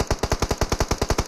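Rapid automatic gunfire in BGMI, a tight string of about a dozen evenly spaced shots, loud and close with no talk over it.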